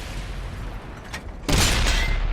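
A single heavy tank cannon shot from an AMX CDC in World of Tanks fires abruptly, its loud broadband boom sustaining as a rumbling tail after a stretch of low ambient battle noise.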